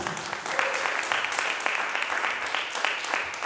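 Worshippers at a Sunday church service applaud, many hands clapping in a brisk, crackling burst that stays fairly even throughout, heard alone without speech.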